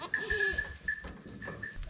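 Baby goat kids bleat on a farm in Portugal, several short, close cries in quick succession over faint background noise.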